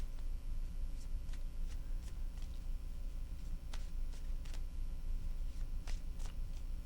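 Tarot cards are shuffled close by, with soft riffling and a few sharp snaps and flicks scattered over a low steady hum, and no voice heard.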